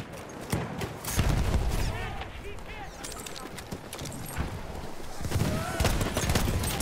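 Gunfire and combat noise from the Battlefield 1 video game, with sharp shots and bursts under loud, busy battlefield sounds and a shouting voice throughout.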